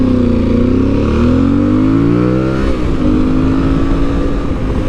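An Aprilia Tuareg 660 motorcycle fitted with a baffled Arrow full exhaust system rides past, its loud engine note rising and then dropping as it passes close by, with steady road roar continuing after.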